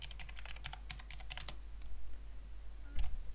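Rapid keystrokes on a computer keyboard while entering a Linux command on an Ubuntu server, a close, dense burst of clicks for about a second and a half, then quiet room hum with a single soft knock near the end.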